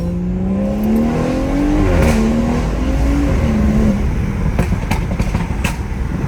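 A stage 2 tuned BMW 340i engine hums loudly and steadily, rising and falling in pitch as it revs during a night drive, with no voices.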